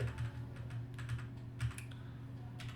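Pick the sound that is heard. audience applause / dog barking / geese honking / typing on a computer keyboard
typing on a computer keyboard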